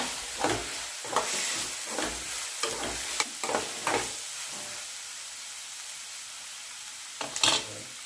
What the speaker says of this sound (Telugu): ఇప్పుడు పసుపు వేసుకొని మొత్తం కలిసేదాకా కలుపుకోవాలి